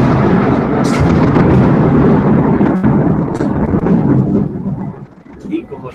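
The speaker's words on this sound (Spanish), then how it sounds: "el inconveniente lo está creando esa pequeña tormenta que de pronto se ha desatado en nuestra contra" Thunder from a small thunderstorm that broke out suddenly, a loud continuous low rumble rolling on for several seconds, fading toward the end, heard indoors.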